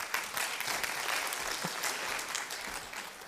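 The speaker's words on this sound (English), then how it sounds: "a round of applause for Brian" Audience applause at an audit committee conference session, a steady wash of clapping from a seated crowd, moderately loud and continuous throughout with no talk over it.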